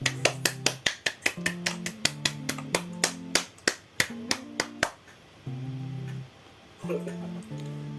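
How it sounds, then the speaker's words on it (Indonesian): A class of students in an Indonesian economics lesson claps a quick rhythmic pattern of sharp, loud hand claps, with voices chanting along, then stops and the voices carry on briefly. "Beri tepuk tangan dulu untuk anak-anak di sini"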